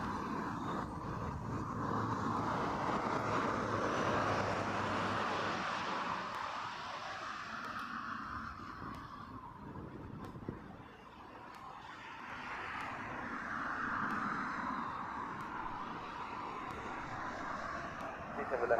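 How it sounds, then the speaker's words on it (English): An American Airlines Boeing 787-9 Dreamliner inbound from Philadelphia to Heathrow gives a faint, distant jet roar that swells and fades, with a voice talking over it. "American Airlines, flight 728. It's a 787-9 Dreamliner, inbound from Philadelphia."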